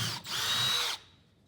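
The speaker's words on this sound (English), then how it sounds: "you want to spin the drill bit really fast when you're drilling holes" Power drill boring a hole through a wooden board, one short high-pitched whirring burst under a second long that cuts off abruptly, close and clear.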